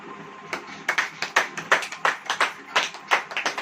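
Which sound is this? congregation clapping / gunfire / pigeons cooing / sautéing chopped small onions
congregation clapping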